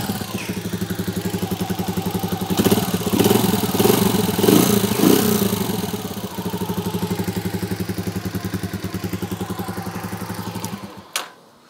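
Mondial 100 Superboy motorcycle engine running close by: a rapid, even idle putter that swells into a brief rev midway, settles back to idle, then cuts off at the end, with no talking.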